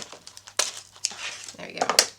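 Small detail scissors snip through a fabric or paper tag in a few quick, crinkly cuts close to the mic, with brief rustling between strokes.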